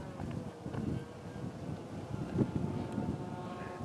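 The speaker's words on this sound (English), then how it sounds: "Got a little bit of wind up here today coming up the face." Wind gusting up the mountain face at Squaw Peak buffets the microphone in a steady, rumbling roar with fluctuating surges, loud and continuous throughout.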